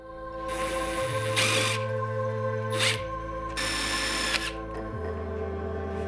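A power drill drives screws to join metal dust collection duct elbows. It makes several loud, whining bursts that rise and fall in pitch, with short pauses and a steady hum in between.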